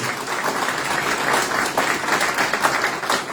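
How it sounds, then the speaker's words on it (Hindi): Audience at a recognition ceremony applauding a team seated in front, steady dense clapping from many hands throughout, moderately loud and fairly near, with no talk over it. "मेरा जोरदार ताली चाहूंगा सभी के लिए"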